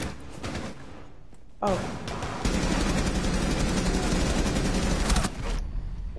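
Video game gunfire heard as a long burst of rapid automatic shots, loud and close, with brief exclamations from a player.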